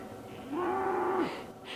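Cattle moo once in a long, drawn-out low call close by at an outdoor overnight campsite, followed by faint background rustle.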